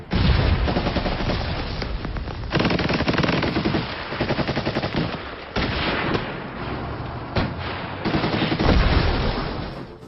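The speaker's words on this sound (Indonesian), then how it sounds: "Tamnik dan yang lainnya pun langsung menembaki tentara Soviet Estonia." Dense, loud gunfire from a war film battle between Waffen SS Estonian and Soviet Estonian soldiers: continuous machine-gun bursts and rifle volleys with heavy booms, nearly unbroken across the whole stretch with only brief dips.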